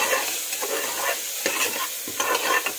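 Spice masala frying in a pan is stirred with a spoon, giving steady scraping and sizzling close up throughout, with no talk.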